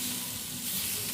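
Berbere spice stirred into onions frying in a pan for Ethiopian ful, giving a steady, close sizzle and hiss throughout with no talking.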